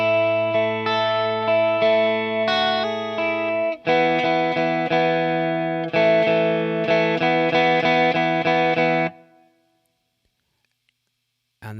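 Distorted electric guitar plays power chords from the verse of a song. The riff is thick and sustained, with brief breaks between chord changes, played alone before cutting off into near silence.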